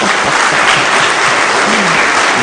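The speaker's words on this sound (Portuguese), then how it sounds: "Dê uma salva de palmas a Jesus." Loud, close round of applause from a church congregation giving praise to Jesus, a thick continuous clatter of clapping hands that stays level from start to finish.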